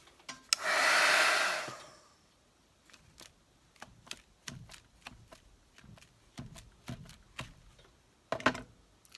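A hair dryer runs briefly on a craft project, loud and close for about a second and a half, then cuts off, followed by scattered soft clicks and taps of handling.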